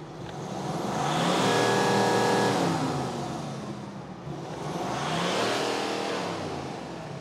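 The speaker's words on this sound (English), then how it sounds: "let's hear a good old V8 with no soft limiter" A V8 engine in a Range Rover or Audi RSQ8 SUV revs twice with no soft limiter, each rev rising to a loud roar and then falling away, heard from nearby with no talking.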